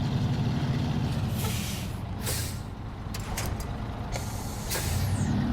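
Heavy truck rumbling steadily through the video game SnowRunner, with repeated sharp hisses of air brakes cutting in over the constant low engine drone.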